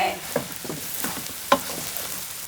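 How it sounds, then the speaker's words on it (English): Bread slices toast in a pan of extra virgin olive oil, sizzling steadily with light clatters and stirring scrapes, one sharper clack midway, heard close with no voices. "So you're kind of toasting your bread as well."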